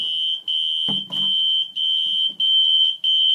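A smoke detector that has fallen sounds a loud, piercing high-pitched alarm tone that repeats with brief gaps between pulses, with faint handling noises underneath.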